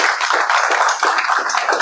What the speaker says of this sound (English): a big clap for all of them.